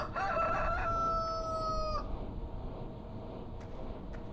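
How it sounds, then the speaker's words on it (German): A rooster in the video game Farming Simulator 2013 gives one clear, loud cock-a-doodle-doo crow lasting about two seconds, followed by a quiet farmyard background. "Tja, Hühnchen."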